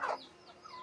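A captured wild junglefowl hen, bald and wounded, gives a short cluck. The brief, soft call is close by and followed by faint background noise.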